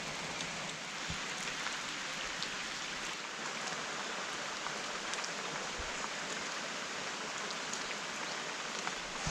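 Steady rain falls at the start of the rainy season in Shimoda, Japan, an even, moderately faint hiss of drops on surfaces, with a few scattered louder drips and no talking.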